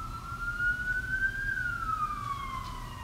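A wailing siren rises and falls in one long sweep over low road rumble, fairly loud and steady.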